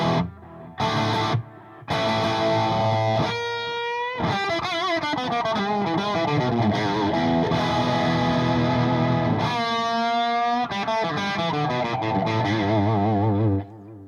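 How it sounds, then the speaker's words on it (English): Electric guitar driven through a Strymon Sunset two-stage overdrive on a crunchy setting, sustained distorted chords and riffs ringing loud and close, with brief gaps early on and no talking. "I have a crunchy sound set up on the Strymon Sunset. It's the two-stage overdrive on side B"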